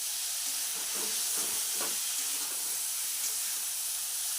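Ginger paste sizzles in a hot pan with cauliflower, giving a steady, loud hiss of frying oil that runs unbroken throughout, close up and with no talking.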